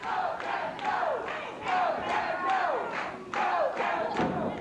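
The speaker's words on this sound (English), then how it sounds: "The crowd begins to chant and yell for Kevin Von Erich" A wrestling arena crowd chants and yells for Kevin Von Erich in rhythmic, repeated bursts of shouting, fairly loud and sustained, with a few thuds mixed in.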